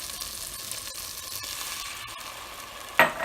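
Worcestershire sauce hits a hot soup pot and sizzles in a steady, moderately loud hiss, with stirring taps and a sharper burst of sizzle near the end.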